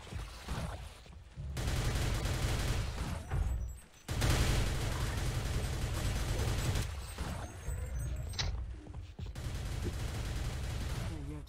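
Sustained automatic gunfire in Half-Life: Opposing Force, aimed at a Voltigore's eye, comes in long loud bursts broken by short pauses, with speech and laughter faintly underneath.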